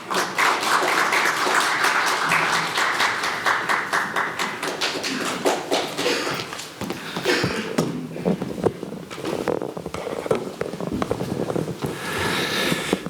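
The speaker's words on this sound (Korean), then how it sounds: "큰 박수 부탁드립니다." Sustained applause from a seated audience at a Korean small-business policy forum, dense continuous clapping with no pause and some sharper nearby claps, filling the room at a steady level.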